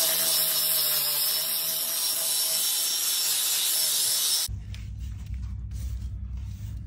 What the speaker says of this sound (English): I might grind the whole thing off